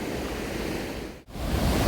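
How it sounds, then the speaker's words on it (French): Steady roar of the waterfall at Pont d'Espagne near Cauterets in the Pyrenees mountains, a dense continuous rush of falling water heard close and loud with no voices, broken only by a brief dip in the middle. "on est arrivé au fameux pont d'Espagne qui est juste là-haut, là, avec sa magnifique cascade"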